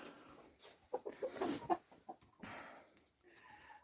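Chickens clucking nearby in a quick, uneven series of short calls, fading to quieter background rustle and faint bird sounds.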